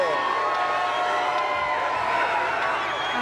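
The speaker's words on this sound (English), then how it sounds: "Unbelievable fans. Listen to them." Dense crowd of fans cheering and shouting along the route of the Denver Nuggets championship parade downtown, a steady loud roar with whoops rising throughout, no distinct voice standing apart.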